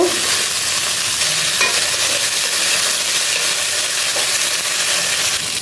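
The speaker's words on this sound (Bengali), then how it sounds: "দেখো আলু আর সিম তেলের উপরে ভেজে নিব" Potatoes and flat beans frying in hot oil, a loud, dense, unbroken sizzle close up with faint stirring underneath, no one speaking.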